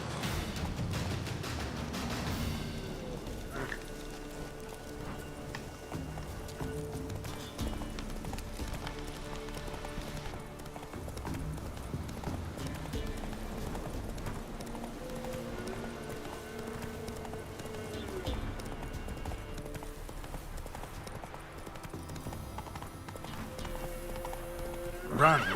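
Roach, the horse from The Witcher 3, gallops in a steady drumming rhythm of hoofbeats, close and continuous, with game music and ambience beneath and a sharp burst at the end.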